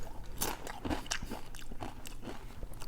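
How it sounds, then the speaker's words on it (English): A first bite of loaded Texas-style smoked queso topped with hot sauce, cilantro and queso fresco, heard as close crunching and chewing with a few sharp crisp bites and soft mouth sounds. "First bite."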